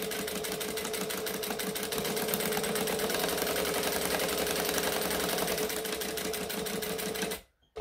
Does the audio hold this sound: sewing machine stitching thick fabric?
yes